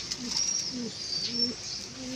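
Pigeons kept in a coop give soft, low cooing calls, several rolling coos in a row close by, with faint higher chirps above.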